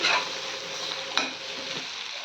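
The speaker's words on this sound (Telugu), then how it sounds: "జీలకర్ర ఉల్లిపాయలు పచ్చిమిరపకాయలు కలిపేసుకొని వంకాయలు వేసుకొని కొద్దిగా పసుపు కూడా వేసానండి" Aubergines with onion, green chillies, cumin and a little turmeric frying steadily in a pan, a continuous soft sizzle with one brief stirring knock partway through, no talking.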